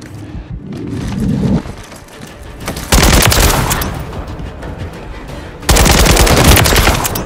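Loud, dense bursts of automatic gunfire from a Call of Duty Modern Warfare III team deathmatch, in two long sustained volleys with a quieter stretch of game noise between them.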